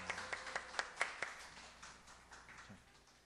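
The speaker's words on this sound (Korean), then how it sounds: "박수 보내주세요." A small church congregation gives a quiet round of clapping during a weekday sermon: a handful of distinct, sharp claps that thin out and fade.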